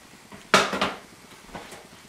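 A hot pan and utensils clatter as drained pasta goes back in and is stirred: one sharp metallic clank followed by a couple of lighter knocks and a faint scrape, close by.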